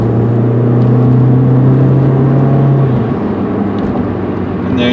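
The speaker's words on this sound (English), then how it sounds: "Let me shut up here for a minute so you can hear as it shifts through the gears nicely" A gray 2002 Kia Spectra sedan accelerates on the road, its engine drone steady and then dropping in pitch as it shifts up a gear, accompanied by road and wind noise from inside the car.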